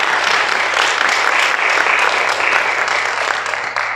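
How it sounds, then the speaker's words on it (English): Audience applause for the first contestant at a cultural beauty pageant, a loud dense burst of clapping hands that holds for a few seconds and tapers near the end. "Ladies and gentlemen, please give a round of applause for contestant number 1."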